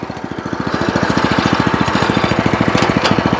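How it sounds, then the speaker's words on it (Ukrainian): A WEIMA WM90 walk-behind tractor's small engine starts in neutral and settles into a loud, fast, even chugging idle, close by with no talk. "Ну і так, ставлю нейтраль і запускаю"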